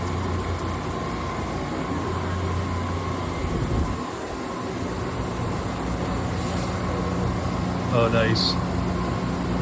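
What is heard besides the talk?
Okuma LT3000EXMY CNC lathe machining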